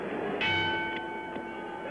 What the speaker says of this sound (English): The bell for the start of round 5.